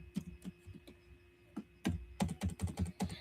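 Keys tap on a computer keyboard in an uneven run of close clicks, sparse at first and then quicker and denser, with no talking over them.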